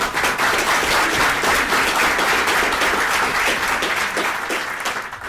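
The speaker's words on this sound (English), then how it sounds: "Let's give him a round of applause." Sustained applause from a crowd at a county commissioners court meeting in Zapata County, steady and full throughout before tapering slightly near the end, with no talk over it.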